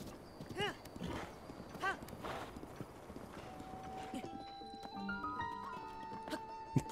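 A horse's hooves clip-clopping in Breath of the Wild, rhythmic thuds with a whinny near the start, set under talking, then giving way to game music and chimes.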